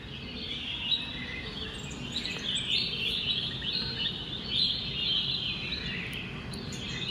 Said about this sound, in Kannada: ಕೇಳಿಸ್ತಾ ಇದೆಯಾ ನಿಮ್ಮೆಲ್ಲರಿಗೂ ಪಕ್ಷಿಗಳ ಸೌಂಡು?